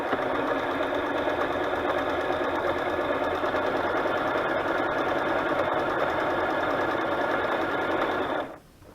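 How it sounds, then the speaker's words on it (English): A sewing machine stitches around paper on a butterfly journal, running in one steady, loud mechanical whir for about eight seconds before stopping abruptly. "I'm just going to go ahead and sew around it"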